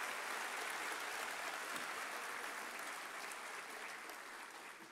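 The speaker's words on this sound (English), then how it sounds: "another round of applause for our choir, for our students this morning" Applause from a school ceremony audience for a student choir at a middle school promotion, a continuous dense wash of many hands clapping at a moderate distance, slowly fading toward the end.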